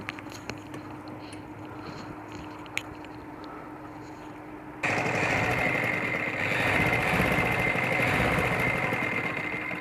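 A sewing machine stitching an umbrella-cut baby frock starts up midway with a steady, loud mechanical whir. Before that come quiet handling noises and a faint hum.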